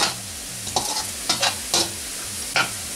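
Chopped onion, one medium, stirred in a hot pan while frying toward light brown: a steady sizzle runs throughout with several distinct scraping stirs of the spoon at irregular intervals, close and clear, no talking.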